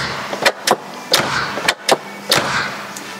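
Several sharp, solid thuds in quick succession of the doors of a 1993 Mercedes 600SL roadster shutting nearby, separated by brief quiet gaps.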